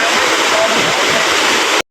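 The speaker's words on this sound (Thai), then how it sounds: "น้ำตกตาดเมือง สวยงามมาก" Tat Mueang waterfall in Laos roars loud and steady as a dense, continuous rush of falling water, heard close and alone before the sound cuts off abruptly.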